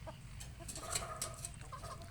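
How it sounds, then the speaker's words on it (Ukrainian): Roosters and other chickens cluck and squawk in a yard, several birds calling at once against a steady low rumble of background noise. "Ось такі пітушки є."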